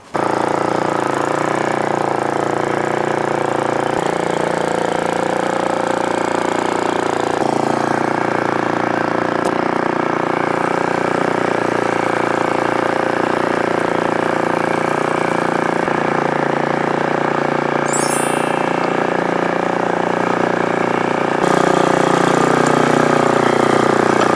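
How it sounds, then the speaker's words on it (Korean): A 6.5 hp four-stroke dual-shaft mini tiller engine runs steadily and loudly close by, a constant mechanical drone with little change throughout. No one speaks. "지금 포사이클이라서 시동 걸기가 굉장히 용이합니다 자 이렇게 시동을 걸고"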